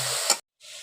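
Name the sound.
water poured into pressure cooker with mash dal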